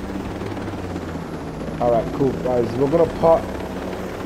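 A helicopter in the video game Ghost Recon Breakpoint drones steadily throughout, with someone talking over the rotor noise in the second half.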